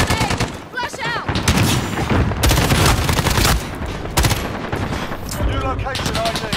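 Dense gunfire in the Call of Duty Modern Warfare video game, rapid automatic bursts and sharp single shots packed together with booming blasts, loud and continuous, with shouted voices mixed in.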